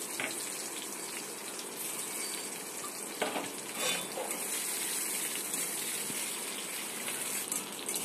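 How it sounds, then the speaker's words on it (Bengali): Chopped onion frying in hot oil with chili, bay leaf and cumin, a steady loud sizzle and hiss that runs continuously, with occasional brief stirring noises. "এবার এই পেঁয়াজটা ভালো করে একটু ভেজে নেব।"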